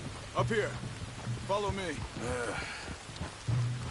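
Steady rain falling in the Red Dead Redemption 2 video game, a continuous hiss under two characters talking in a wet outdoor scene.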